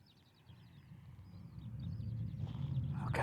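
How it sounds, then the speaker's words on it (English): Faint, distant birds chirp and twitter in short phrases in green hills on Lanzarote while a low rumbling background slowly grows louder, ending with a brief close rustle. "you can hear the birds singing"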